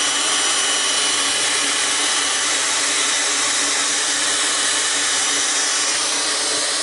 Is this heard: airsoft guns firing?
no